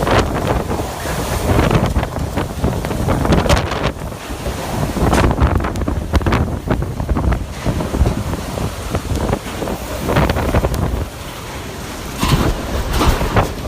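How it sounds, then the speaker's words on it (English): Hurricane winds roar and howl in heavy continuous gusts with driving rain, loud and close, with wind buffeting the microphone and no voices. "The howling winds and rain and the sound of debris flying"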